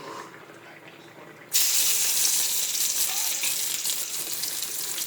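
Eggplant chutney with onion and garlic hits hot oil in a pan, and a loud, steady sizzle bursts in suddenly after a quieter moment, then carries on evenly with faint stirring.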